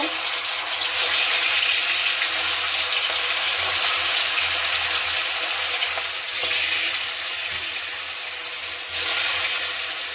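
Fish pieces frying in hot oil in a wok give a loud, steady broadband sizzle that runs the whole time, with brief surges as more fish goes in. No talking.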